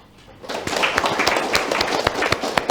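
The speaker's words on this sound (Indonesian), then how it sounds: "boleh tepuk tangan?" A studio audience at a televised public dialogue forum in Banten breaks into brief, brisk clapping that swells after a short lead-in and carries on steadily, with a faint voice in the mix.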